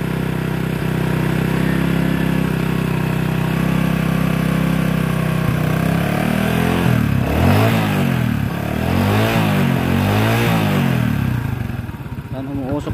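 A Honda XRM motorcycle engine idles, then is revved several times in quick bursts to warm it up, the pitch rising and falling with each twist of the throttle.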